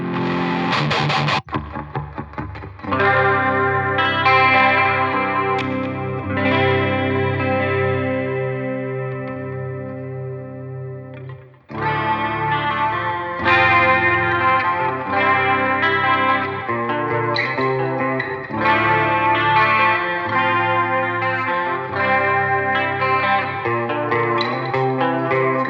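An electric guitar runs through a NUX Trident multi-effects pedal into a power amp and switches between presets without pops or clicks. It plays sustained, heavily processed chords with chorus, distortion and echo, loud and alone, with a brief drop between two tones.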